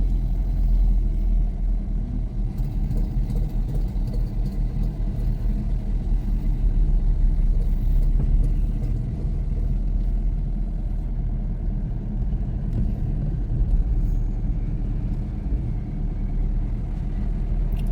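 A vehicle drives at night through the Nilgiri forest, giving a steady low engine rumble and road noise heard from inside, continuous and moderately loud.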